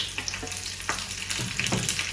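Curry leaves and a dried red chilli crackle and sizzle in hot oil with mustard seeds and fenugreek, giving a close, steady frying hiss broken by several sharp pops over about two seconds.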